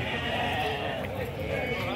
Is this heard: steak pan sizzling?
no